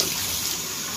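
Water runs steadily from a tap, filling a container for making coffee, with a close, continuous, bright hiss and splash and no talking.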